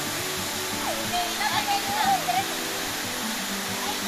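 Bailan waterfall in Mambusao, Capiz, in the Philippines, pours with a constant loud broadband roar while a person speaks briefly over it.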